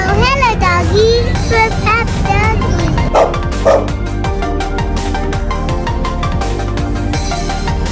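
Dog barking at a pumpkin patch, several sharp close barks with yips and a whimper at the start, followed by children's voices and talk with fairground-like background noise.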